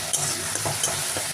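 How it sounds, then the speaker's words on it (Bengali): Onions fry in a pan, making a continuous close, loud sizzle with faint stirring underneath, while a mustard-fish dish is being cooked. "পেঁয়াজটা ভাজা হয়ে গেল"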